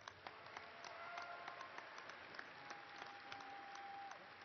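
Faint, distant applause rises from the audience at a fall university commencement, a soft spread of many hands clapping heard from far off in a large hall, with a faint steady tone running underneath.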